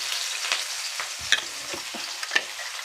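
Raw onion dropped into hot oil with black cumin over a medium gas flame, giving a continuous close hiss with a few soft scrapes and clinks of stirring, and no voices.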